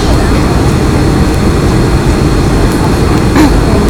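Airplane landing at Calvi airport, its loud, steady engine roar filling the cabin throughout and masking everything else.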